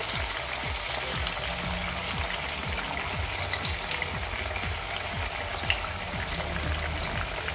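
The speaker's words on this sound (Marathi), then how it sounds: "जेवढं या तेलामध्ये मावेल तेवढे आपण हे फ्रेंच फ्राईज फ्राय करूया" Sabudana (sago) french fries deep-frying in hot oil, a steady close bubbling sizzle with small crackling pops running evenly throughout.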